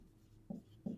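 Letters of the English alphabet handwritten with a pen on paper, two short scratchy strokes about a third of a second apart, faint and close, with no voices.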